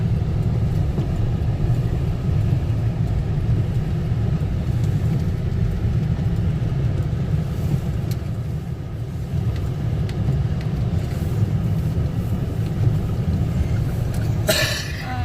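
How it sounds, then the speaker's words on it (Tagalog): A snow blower runs outdoors in heavy snow, a loud, steady engine drone with low rumble holding constant throughout, and a brief sharp noise right at the end. "Snow blower is out dahil ang daming snow."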